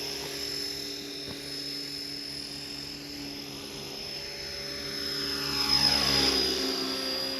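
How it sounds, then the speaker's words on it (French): Electric brushless RC model helicopter flying steadily under sustained throttle, a continuous loud rotor drone with a high motor whine that swells and shifts pitch near the end as it passes closer. "Tu es obligé de rester plus sur les gaz pour que l'hélico reste à la hauteur."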